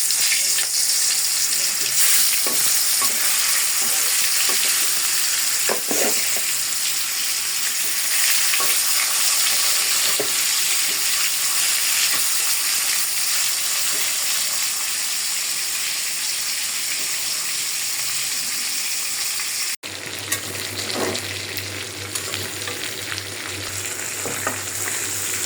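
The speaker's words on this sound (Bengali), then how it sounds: "তেলটা গরম হয়ে গেছে, আমি এখন মাছ দিয়ে দিলাম।" Fish sizzles loudly in hot oil in a home kitchen, a continuous crackling, spattering fry close up with occasional stirring clatter and a brief clunk near the end.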